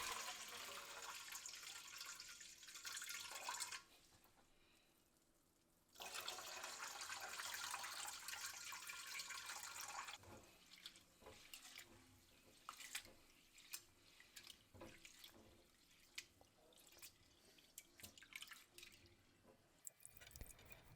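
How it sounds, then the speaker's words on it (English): Water from washing glutinous rice is poured out of a bowl, a close splashing, trickling stream that stops for a moment and starts again, then gives way to scattered drips and small wet knocks. "Now we'll pour out this water and repeat this 3 times."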